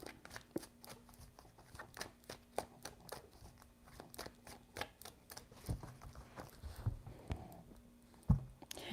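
Tarot cards being shuffled by hand in a quiet room: soft, quick riffling and rustling in short bursts, faint and close, with a few louder taps and knocks toward the end.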